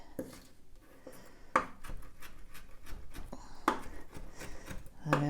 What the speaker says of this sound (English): I always finely chop the zest as well.